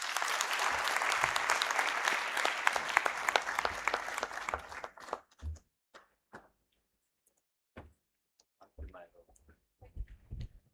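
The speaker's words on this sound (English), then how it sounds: "Please give a bigger hand of applause to the Honorable Deputy Chief Justice." Audience applause at the closing of the Registrars' and Magistrates' Conference 2025, a dense, loud burst of clapping for about five seconds that cuts off abruptly, followed by sparse scattered claps, knocks and brief voices.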